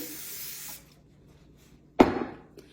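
Cooking spray hissing from an aerosol can onto a cake pan for a chocolate cake, a short soft spray followed by a second brief, louder burst, close up in a quiet kitchen.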